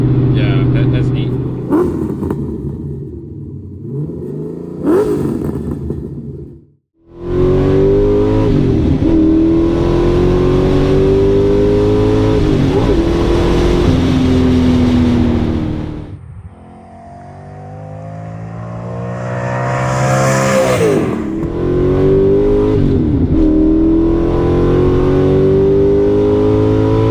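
A 1990 Callaway Corvette ZR1 Supernatural engine pulls hard from inside the car, rising revs and upshifts with a brief lift-off, loud and close under occasional talking.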